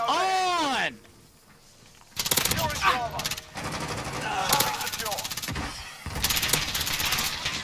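MP7 submachine gun fire in the video game Modern Warfare, rapid automatic bursts broken by short pauses, loud and close, mixed with game effects.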